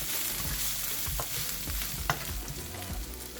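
Sichuan chili powder frying in oil in a wok, a dense, steady sizzle with a few soft utensil taps and scrapes, close and continuous with no voices.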